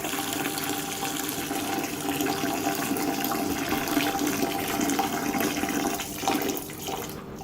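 Boiled water from a kettle pours steadily into a limescale-stained toilet bowl, a continuous close splashing and gurgling that holds for several seconds before tapering near the end.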